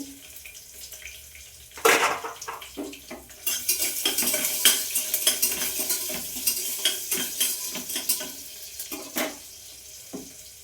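Mustard seeds, curry leaves and garlic are stirred in a hot pan, with a metal spoon scraping and clinking against the pan over a steady sizzle; close, busy, irregular strokes with no talk.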